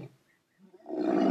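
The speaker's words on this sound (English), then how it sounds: "Ludacris added different variations with the sound of the lions" Video game lion roar variation, a short low growl swelling out of near silence into a loud, rough roar that builds toward the end.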